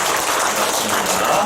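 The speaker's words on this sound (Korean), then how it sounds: "박수로 환영하겠습니다." Church congregation applauds briefly to welcome a newcomer during a sermon, a short burst of dense clapping while someone speaks over it.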